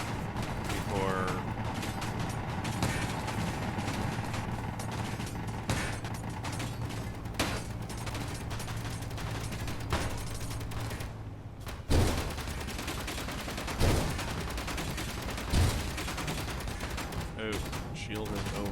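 Rapid gunfire strikes a shielded vehicle in the space survival game Space Engineers, with dense, continuous clattering hits and mechanical grinding, punctuated by a few louder impacts toward the end.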